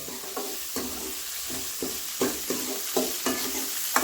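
Amaranth greens (sirukeerai poriyal, Kongu Nadu style) stir-fried in a pan: a steady close sizzle with rhythmic scraping stirs roughly every half second throughout.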